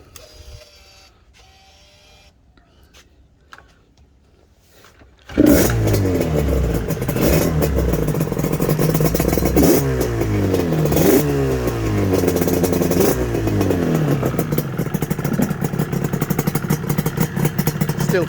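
After quiet handling noises, a two-stroke motorcycle with a YPVS power valve, cold and long left standing, bursts into life and runs loud and close with a crackling idle and repeated blips of revving.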